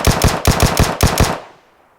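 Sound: machine gun fire in video game PUBG Mobile

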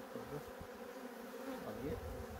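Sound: honey bees buzzing at opened beehive

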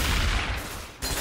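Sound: gunfire in Left 4 Dead 2 video game

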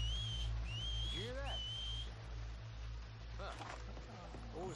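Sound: whistling to distract a guard in video game Red Dead Redemption

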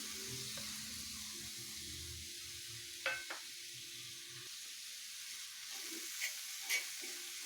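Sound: sautéing chopped capsicum, onion and tomato in pan

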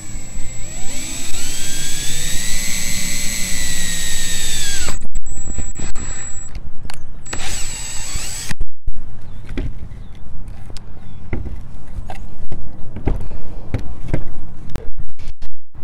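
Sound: power drill drilling holes in a gutter

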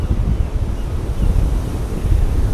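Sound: wind blowing at Blackpool seafront

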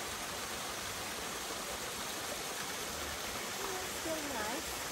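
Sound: waterfall in Williamson Park

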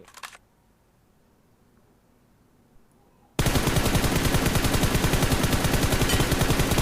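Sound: gunfire from PUBG Mobile video game

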